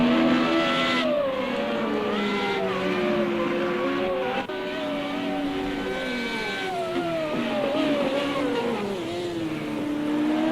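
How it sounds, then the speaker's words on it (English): Formula Renault race car in a racing video game pulling out of the pits, its engine note rising and falling in steady sweeping pitches with brief tire squeals, loud and continuous with no talk. "he is in the pits on his way out, trying to warm up the tyres before he hits the track"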